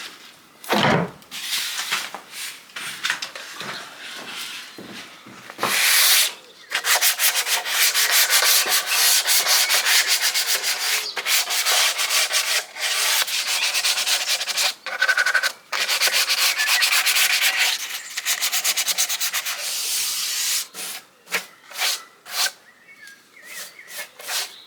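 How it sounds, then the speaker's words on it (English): Sanding an abandoned cottage's window frame by hand: long, steady rasping strokes in repeated runs with brief pauses, close and loud, ending in a few short scrapes. "I'm going to do some sanding as well."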